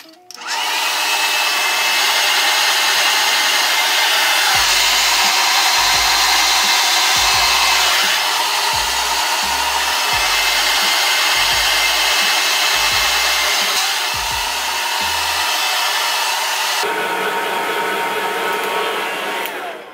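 A hair dryer blows loudly and steadily for a long stretch, its airflow shifting slightly as it moves, then dropping in level near the end.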